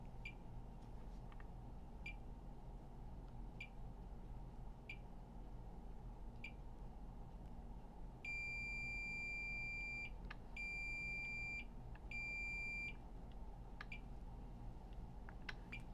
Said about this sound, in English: Some of these are low resistance lines and the beeping's normal.